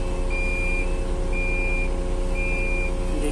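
A truck backing up at an open-pit mine sounds a steady, repeating reverse beep: three evenly spaced tones over a constant low engine rumble.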